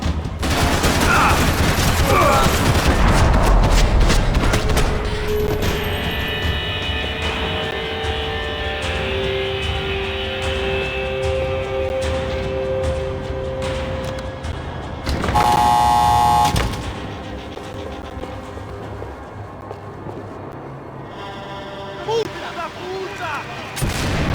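Heavy gunfire in the video game Max Payne 3: a dense barrage of shots and blasts at first, then a long rumbling mechanical roar with metallic ringing, with brief bursts of loud noise later; a voice talks over it in places.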